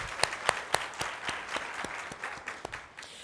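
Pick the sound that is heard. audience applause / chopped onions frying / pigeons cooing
audience applause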